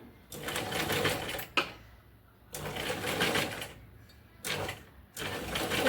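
A sewing machine stitches a blouse back neck design in a tailoring class, running in four bursts of rapid whirring, close and fairly loud, separated by short pauses.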